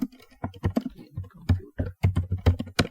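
Rapid keystrokes on a computer keyboard typing text into a box, a close, uneven burst of crisp clicks and taps.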